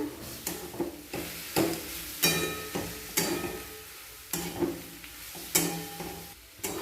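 Egg mixed with beetroot and carrot is stirred and fried in a pan, with a spatula scraping and knocking in a steady rhythm over a soft sizzle, close up and with no talking.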